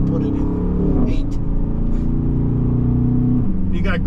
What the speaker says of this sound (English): You got great sound coming out of the exhaust on this vehicle.